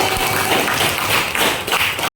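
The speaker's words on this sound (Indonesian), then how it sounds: "Oke, beri tepuk tangan." Students in an Indonesian classroom applaud a group of classmates, making dense, steady clapping close by that stops abruptly at the end.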